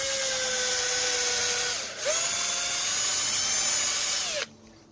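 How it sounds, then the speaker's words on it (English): A power drill whines loudly at a high, steady pitch while drilling a hole in wood, briefly dipping before spinning up again, then cutting off abruptly. "I'm going to just drill in a nice little hole here"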